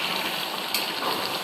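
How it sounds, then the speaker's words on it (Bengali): Boiling water pours steadily into duck curry, a continuous gushing, splashing stream heard up close with no talk. "এখন ফুটন্ত পানি দিয়ে দেবো, ঝোলের পানি।"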